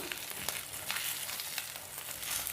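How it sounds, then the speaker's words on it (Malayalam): Beaten egg spread thin in a pan for an omelette sizzles with a steady, soft crackling frying hiss. "ഓംലേറ്റ് ആക്കാൻ അടിച്ചിട്ട് റെഡി ആയിട്ടുണ്ട്. അപ്പോൾ ഇതിനൊന്ന് കുറച്ച് പരത്തി കൊടുക്കണം."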